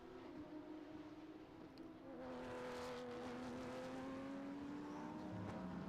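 A Lamborghini race car brakes into turn 7 at Sebring during a race. Its engine note is moderately distant and shifts in pitch as it slows, over a steady background of other cars and track noise.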